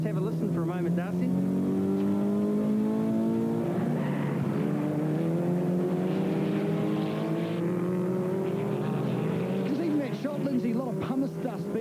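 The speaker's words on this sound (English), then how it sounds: "You're coming down through the corkscrew onto the start-finish line for 6th place, so let's just have a listen for a moment, Darcy" Production race cars at the Taupo circuit roar through the corkscrew toward the start-finish line, engines rising and falling in pitch as they pass through gear changes, with a commentator's voice audible over the steady engine noise.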